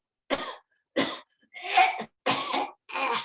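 A voice imitates a retching, gagging cough in five separate harsh bursts, each short and forceful, with brief silences between them.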